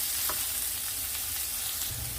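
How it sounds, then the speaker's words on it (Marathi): Tomatoes frying in a pan while making Goan mackerel green curry, a steady close sizzle with faint crackles and no talking. "तितून टोमाट घाता बरें गोल्डन ब्रावन जावपाचें रावता"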